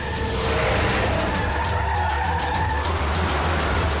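A car drives hard along a road while overtaking a swerving van, its engine a steady, loud drone with tire noise and a brief skid-like squeal, continuous for about four seconds with no talking.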